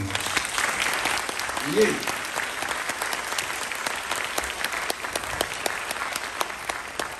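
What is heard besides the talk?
audience applause for the trumpet section at a jazz concert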